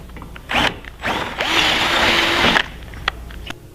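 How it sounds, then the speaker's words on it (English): A power drill with a 9/32 bit whines and grinds through metal, drilling the threads out of a factory bolt hole on a Can-Am side-by-side, in a couple of short bursts and then one steady two-second run, close up. "I have to take a 9/32 drill bit and drill the threads out of this factory hole"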